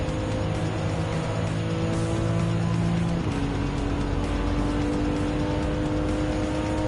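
Mitsubishi Lancer Evo X Final Edition race car in Gran Turismo 7, its engine droning steadily and loud throughout, with a pitch shift partway through and other cars mixed in.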